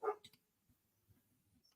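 A dog gives one or two quick, sharp barks at the very start, fairly close, followed by near silence with faint movement and a small whimpering sound.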